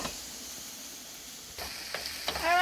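A pot of squash soup vegetables with sweet potatoes, apple and celery simmers quietly, a low steady hiss and bubble. A few brief clinks follow, then a short voice at the end.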